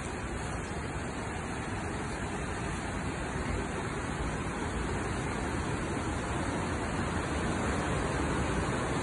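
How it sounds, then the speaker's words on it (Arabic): Steady, dense rush of a flowing river in Ayder, northern Turkey, a constant broadband roar with no breaks, fairly close. "من صوت النهر"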